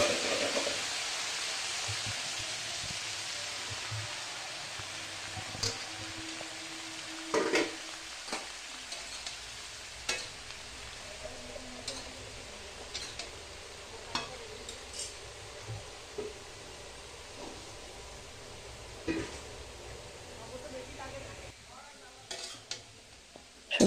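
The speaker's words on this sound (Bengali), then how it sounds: "সবজিগুলো দিয়ে একটু ভাজা করে নেব সবজিগুলো।" Vegetables fry in a pan for a home-cooked festive meal, giving a steady close sizzle broken by repeated spatula scrapes and sharp metallic clinks against the pan, with no talking.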